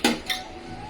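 A cooking pot is set down on a clay tile while making country-chicken biryani: a sharp ceramic-metal clink, then a second lighter knock, followed by a faint lingering ring.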